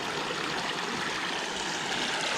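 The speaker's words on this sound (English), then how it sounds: "it's flowing pretty good down through a little creek run" Creek water pouring through a break in a beaver dam, a steady close rushing and burbling flow with no pauses and no other sounds.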